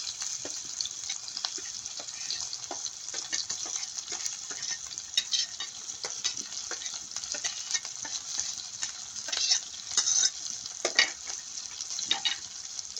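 Cumin, onion and green chillies fry in hot oil, giving a steady bright sizzle with scattered crackles and the scrape of stirring, continuous and close, with no talking.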